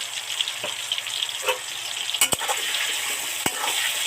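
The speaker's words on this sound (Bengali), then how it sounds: "একটু সামান্য হলুদ গুঁড়ো ছড়িয়ে দিলাম, দিয়ে নেড়ে চেড়ে মিশিয়ে নেব।" Potatoes sizzle in hot oil in a pan with a little turmeric while being stirred, a steady broadband fry with a few sharp clicks of the spoon against the pan.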